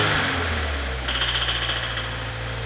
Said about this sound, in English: we are working on a 2016 Subaru WRX with some pretty bad rod knock